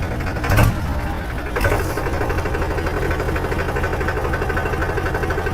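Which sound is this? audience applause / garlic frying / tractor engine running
tractor engine running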